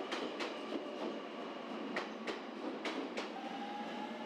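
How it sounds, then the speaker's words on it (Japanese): A JR Kyushu 883 series Sonic limited express train on the Nippo Main Line runs past with rhythmic clacks of wheels over rail joints, a steady rushing roar and a faint high whine near the end. "鹿児島本線の博多駅から来た特急ソニック883系。"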